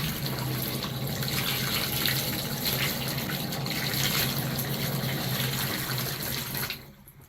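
Steady broadband rush of water pouring from a repaired Moen shower, continuous and fairly close, running alone for several seconds before cutting off near the end.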